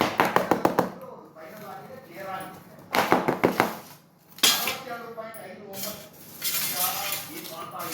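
Quick bursts of metal tapping on a tray to spread coconut sweet mixture, close and fairly loud, alternating with a person speaking.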